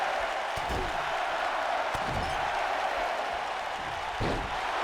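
The wrestling crowd in the WWE 2K19 video game, during a SmackDown Live match, roars in a loud, steady sustained cheer, with a few sharp thuds of in-ring impacts cutting through it.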